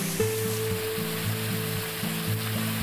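Clear, fast-flowing mountain spring water on Gunung Soputan, a steady broadband rush that fills the whole moment, with a faint low tonal hum underneath.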